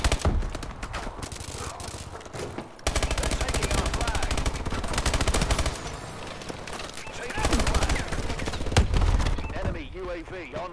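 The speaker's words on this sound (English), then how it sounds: "Oh man, we need to get that sentry gun." A sentry turret in Call of Duty: Advanced Warfare fires in loud, sustained automatic bursts, with dense gunfire running nearly the whole time and a brief pause early on, mixed with other battle sounds.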